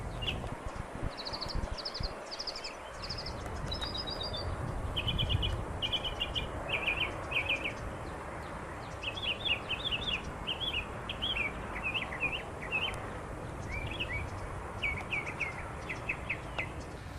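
A mockingbird sings repeated bright, varied phrases in short bursts, clear against a steady outdoor background hiss, in San Antonio, Texas.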